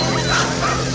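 Sled dogs at the start of the Yukon Quest 300 race yip and bark in an excited, overlapping chorus, dense and continuous, with a voice talking over them.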